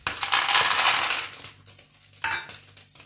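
Almonds are dropped into a hot pan for dry roasting, giving a bright scattered clatter of nuts against metal in one burst, then a second short rattle near the end, close and alone.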